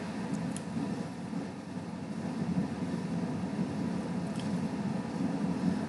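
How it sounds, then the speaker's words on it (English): A steady, low air conditioning hum drones continuously in the background, a broad even rumble with no voices over it. "Apologies for the noise in the background. That's the aircon."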